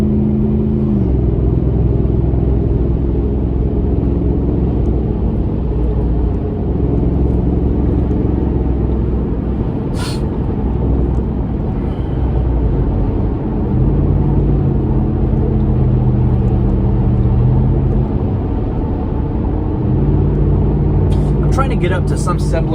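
A Lexus GX fitted with a Magnaflow Overland exhaust accelerates toward highway speed, its steady low engine drone and road rumble rising slightly, with someone talking over it throughout.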